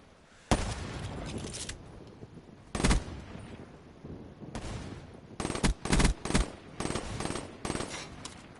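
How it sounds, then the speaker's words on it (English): Sniper rifle shots in a competitive video game match, sharp loud cracks arriving singly at first and then in a quicker cluster of bursts, with a faint background in between. "Looks like Laney's having a few shots with the sniper."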